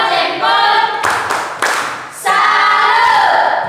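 A classroom audience of students gives a 'tepuk salut' clap after a group presentation on Mary, with bursts of rhythmic hand clapping that stop briefly and then resume, loud and close with no talk.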